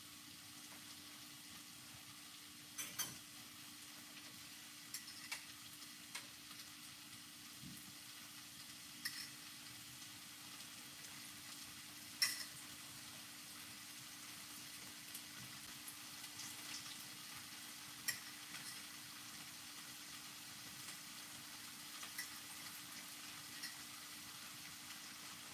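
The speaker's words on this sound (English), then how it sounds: "I'm just frying it over, so I'm not gonna let them, get too crispy" Roasted breadfruit fries in a pan, a faint, steady sizzle with occasional soft clicks and taps from stirring, heard alone without any talking.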